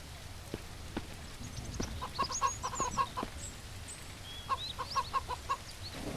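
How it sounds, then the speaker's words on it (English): Chickens cluck in the survival game Mist Survival, two quick bursts of repeated short clucks at moderate distance over a soft background hiss, with scattered taps and faint chirps between them. "I hear chickens around, but I don't see them"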